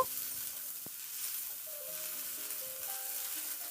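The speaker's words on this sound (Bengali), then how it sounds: "নাড়াচাড়া করে মিনিট চার পাঁচের সময় ধরে খুব ভালো করে সবজিটাকে ভেজে নেব" Mixed vegetables for shukto fry in a pan with a faint, even hiss, quiet and steady, with a low tonal backing underneath.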